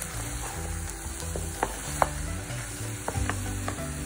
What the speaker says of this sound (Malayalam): ഇതുപോലെ ഒന്ന് മിക്സ് ചെയ്ത് കൊടുക്കാം.